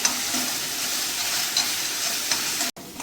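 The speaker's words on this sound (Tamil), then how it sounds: "இஞ்சி பூண்டு சேர்த்தாச்சு அது நல்லா வதங்கட்டும்" Ginger and garlic sauté in hot oil in a pan for a beef curry, making a continuous bright sizzle with soft stirring scrapes throughout, close and steady, before the sound cuts off abruptly near the end; nobody speaks.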